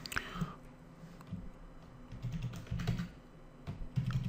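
JavaScript code typed on a computer keyboard: quiet, close, irregular clusters of key clicks with small pauses between bursts, faint and without talking.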